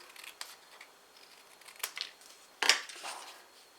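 Scissors or a paper trimmer cut through card paper in a few quiet, short snips and crunches, with one sharper cut near the end, close and faint in an otherwise quiet room.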